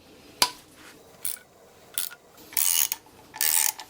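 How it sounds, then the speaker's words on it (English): A ratchet loosening an engine chain guide bolt on a flood-damaged, seized BMW M135i gives a short click, then several bursts of rapid, close ratcheting separated by brief pauses. "we just need to remove the chain guide bolt"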